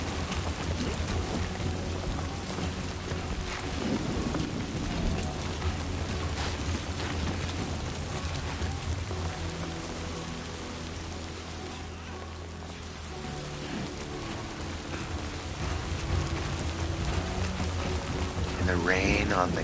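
Timefall rain from the video game Death Stranding 2, played on a PS5 Pro, patters steadily and close throughout, a dense wash over low rumbling game ambience and music, with a voice speaking over it.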